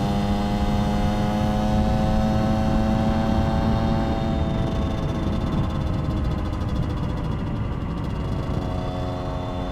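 A two-stroke project motorcycle engine idles steadily after carburettor jetting, a continuous buzzing drone with a strong tonal whine, close and loud throughout with little change in speed.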